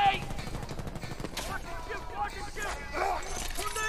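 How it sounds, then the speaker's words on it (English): Rapid gunfire in Medal of Honor, a multiplayer match at Kandahar Market, with sharp bursts and shots scattered throughout while a player talks over the action. "I don't appreciate you shooting at my friends and stuff, man."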